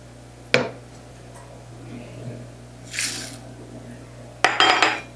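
A utensil stirs vegetable soup mix into broth in a measuring cup, giving a sharp clink at the start, a soft scrape in the middle, then a quick burst of rattling clinks near the end.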